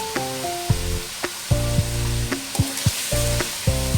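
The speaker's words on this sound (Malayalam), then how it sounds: "ഇനി നമുക്ക് ഇതിലേക്ക് സബോള ഇട്ട് കൊടുക്കാം" Seven medium sliced onions fry with mutton and whole spices in a pan, giving a loud, steady sizzle broken by regular scraping stirs.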